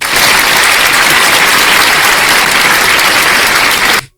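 An audience at a religious lecture bursts into applause, a loud, dense and steady wash of many hands clapping that cuts off abruptly near the end.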